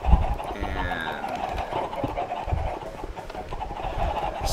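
Chickens cluck in a Minecraft automatic chicken farm, several soft, repeated clucks over a steady background hum, with no speech.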